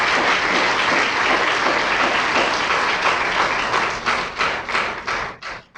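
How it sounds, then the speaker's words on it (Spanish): A church congregation applauds in a dense, sustained wash of clapping that holds steady, then thins into separate bursts and fades toward the end. "Dale un aplauso al Rey."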